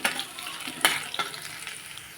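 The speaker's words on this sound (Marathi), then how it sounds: "आता याला कडकडू दे दोन मिनटं तेलामध्ये" Chopped ginger and garlic sizzle and crackle in hot oil in a pan, with a steady frying hiss punctuated by a few sharp pops and stirring clatters.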